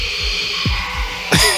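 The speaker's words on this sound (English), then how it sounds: "noise, the heartbeat." Heartbeat sound effect from a low-budget gross-out zombie horror film: a steady series of deep, thudding low pulses repeating about every third of a second, close and loud beneath a constant bright hiss, with a sharper burst near the end.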